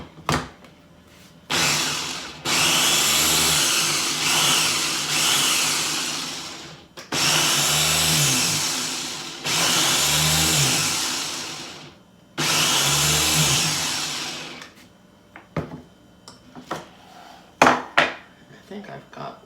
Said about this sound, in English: most of the berries ground up in there